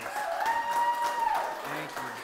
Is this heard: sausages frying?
no